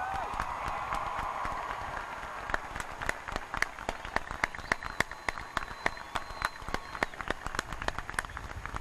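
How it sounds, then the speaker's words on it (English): A crowd applauding at a university commencement ceremony, steady clapping from many hands in a large room, continuing evenly for several seconds. "let us give you a round of applause"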